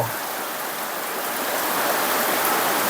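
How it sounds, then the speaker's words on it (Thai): Heavy rain pours down in a dense, unbroken hiss at a home during a downpour, loud and steady throughout with no voices. "ฝนตกลงมา ชุ่มฉ่ำไปเลยนะครับทุกคน"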